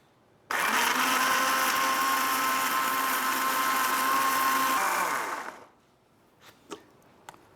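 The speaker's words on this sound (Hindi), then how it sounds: "अब हम इसे ग्राइंड करेंगे।" A blender whirs loudly and steadily for about five seconds, grinding red chutney with salt and a dash of water, then winds down, followed by a few light clicks and taps.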